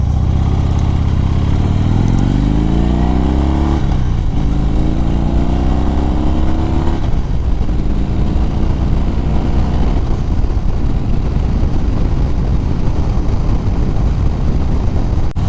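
Harley-Davidson Fat Bob motorcycle fitted with Screamin' Eagle Street Performance staggered dual mufflers, cruising along a road: a loud, steady, deep exhaust rumble with rising and falling engine pitch as it shifts, continuous throughout with no talking.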